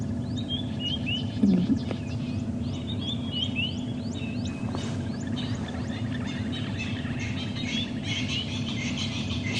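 Faint bird calls and chirps repeat throughout a sunrise safari drive in the African bush, distant and soft, with insect and ambient noise beneath and a brief knock near the start.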